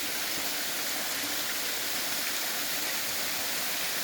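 Steady, broadband rush of small waterfalls on a hill with old cave temples near Karad, a dense continuous water roar close by with no pauses and no voices.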